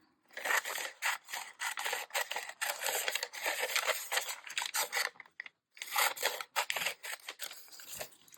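Scissors snip and rasp steadily through a plastic bag in close, continuous cutting strokes, with a short break before the cutting picks up again.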